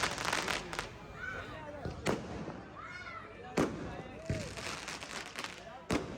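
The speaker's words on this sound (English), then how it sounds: "you will hear some fireworks because some people decide to do fireworks" Fireworks at a wedding celebration in India go off in a string of loud, sharp bangs at irregular intervals, with whistling rockets rising between the blasts over background crowd noise.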